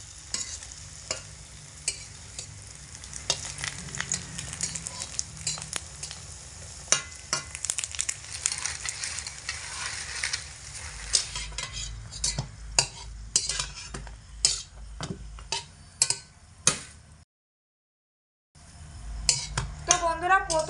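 Flour and potato snacks fry in hot oil and are flipped partway through. A steady close sizzle runs under sharp clicks and scrapes of a utensil against the pan, then cuts out briefly near the end before resuming.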